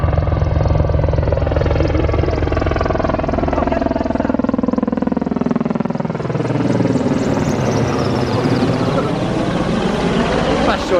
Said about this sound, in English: Wave at the helicopter.